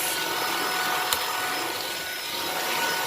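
A Puppyoo A9 cordless vacuum cleaner runs steadily on a hardwood floor, a loud, close, even whir with one brief click partway through.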